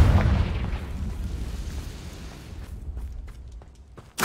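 A Confringo blasting spell goes off in Hogwarts Legacy with a loud, close fiery explosion that rumbles and fades over several seconds, then a sharp new burst hits right at the end.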